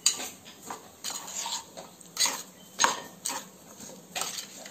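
Jackfruit being mixed with masala and oil in a pan, giving repeated scraping and clinking of a utensil against the metal, in irregular bursts of stirring with short pauses, close and moderately loud.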